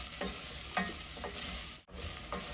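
Tomatoes sautéing with masala in a pan for a padwal (snake gourd) curry, giving a steady close sizzle broken by a few soft stirring scrapes, with no talking.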